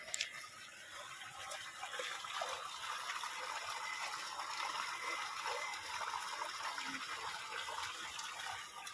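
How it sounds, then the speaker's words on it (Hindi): Water runs and splashes steadily into a container, a soft continuous trickling gush at low volume with a faint clatter at the start. "जा पानी भर करके आवा डब्बा में"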